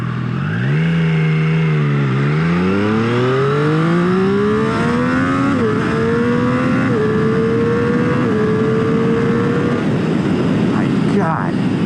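A 2021 Triumph Street Triple 765 R motorcycle accelerates hard through several gears, its triple-cylinder engine rising in pitch, briefly dipping at each shift, loud and close under heavy wind rush.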